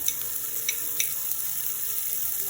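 Soya meat fries in a pan on high heat, giving a soft continuous sizzle with a few light clicks of a spoon stirring. The sound is faint and close.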